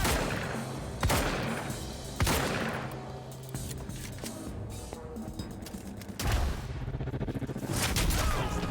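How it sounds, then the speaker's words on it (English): Gunfire in the video game Quantum Break: several sharp, loud shot bursts spaced a second or more apart, then a tighter volley of rapid shots near the end. "Open fire!"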